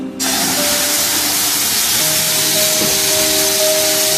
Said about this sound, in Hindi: अब इसमें ये शुगर सिरप जो है ये थोड़ा थोड़ा करके शामिल करेंगे